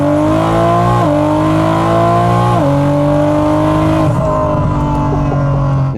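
Tuned all-wheel-drive BMW M240i with a B58 engine making about 1,500 horsepower, revving hard and loud through rising gear pulls with sharp shifts, then easing off near the end.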